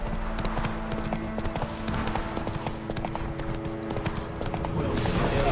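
Roach the horse's hooves clip-clop steadily in The Witcher 3, a brisk rhythmic trot over continuous game music and ambience, with voices talking over it.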